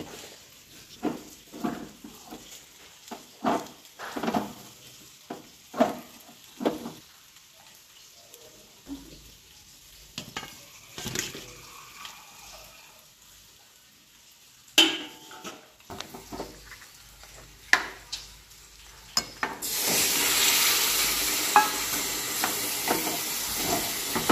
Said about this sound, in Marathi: तोपर्यंत आपण ते छोटेवाले मासे रश्श्यामध्ये टाकून घेऊयात